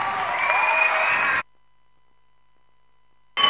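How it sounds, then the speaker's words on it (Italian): An audience applauds loudly at a dance school show, a dense wash of clapping and some cheering that cuts off abruptly halfway, followed by silence and a brief return of crowd noise. "Accoglieteli ora con un grande applauso e buona visione."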